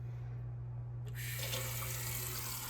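A kitchen sink faucet is switched on and water pours steadily into the basin, a close hiss over a low steady hum, with no talking.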